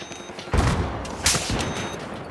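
Rapid gunfire bursts in the shooter game Battlefield 4, two loud close volleys crackling over continuous battle noise, no talking.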